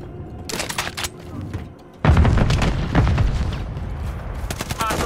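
A frag grenade goes off in a Call of Duty multiplayer match. A sudden heavy boom lands midway, with bursts of gunfire crackling before and after it.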